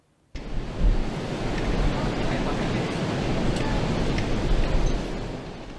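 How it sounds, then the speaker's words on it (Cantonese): Heavy surf from an approaching super typhoon crashes and roars continuously onto a beach at Big Wave Bay, Shek O, Hong Kong, with waves over 2 metres, loud and close, with gusting wind noise mixed in. "石澳大浪灣不斷有急浪湧上沙灘，出現超過2米高嘅大浪"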